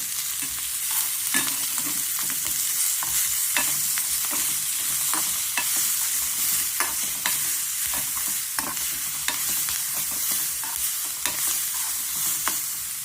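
Rice roasting in a pan with red chili powder while being stirred: a steady bright sizzle broken by frequent sharp scraping clicks of a spoon, close and continuous with no voices.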